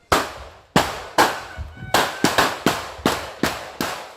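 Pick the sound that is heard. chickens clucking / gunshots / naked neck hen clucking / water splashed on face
gunshots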